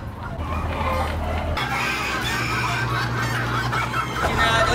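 Roosters in a Vietnamese poultry farm pen, a dense, continuous chorus of clucking and calls with a steady low hum underneath, fairly close and busy throughout.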